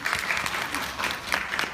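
A short burst of audience applause at a Montessori conference, many hands clapping in a brisk, uneven patter at moderate volume, with no voices.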